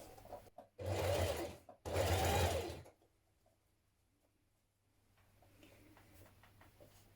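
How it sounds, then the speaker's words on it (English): A sewing machine top-stitches around the front neckline of a 1970s vintage wrap dress, running in two close, steady bursts of about a second each before dropping to a faint background hum. "Now we're going to top stitch around the neckline at the front."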